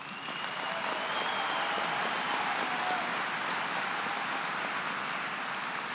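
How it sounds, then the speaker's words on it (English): A crowd at a 2022 Fort Zumwalt South High School graduation ceremony applauds the seniors, a dense, steady clapping that fills the hall evenly from start to finish. "How about a nice hand for our seniors?"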